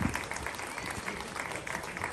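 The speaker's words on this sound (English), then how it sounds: "give a big round of applause for our wonderful Grace Mann" A crowd at a Great Neck, Long Island rally against anti-Asian hate crimes applauds Congresswoman Grace Meng, a steady, dense wash of clapping that holds for about two seconds without any clear voice.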